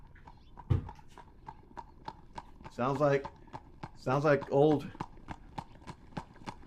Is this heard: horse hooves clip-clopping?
yes